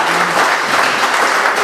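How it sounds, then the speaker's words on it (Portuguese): A church congregation claps hard in a dense, continuous burst of applause, loud and steady throughout with no voices standing out. "Dê um aplauso ao Senhor Jesus bem forte nessa noite."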